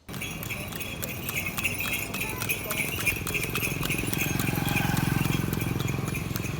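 Steady clip-clop of horse-drawn cart hooves on a road at Palani, Tamil Nadu, runs under continuous talking, with faint jingling and street noise.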